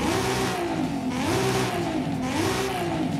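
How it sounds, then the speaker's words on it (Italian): The inline-six twin-turbo engine of a Nissan 350Z in Forza Horizon 5 revs steadily, its loud drone rising and falling in pitch in repeated waves with no one talking. "mi piace troppo il sound di questo 2006 i6, quindi in linea 6 cilindri twin turbo"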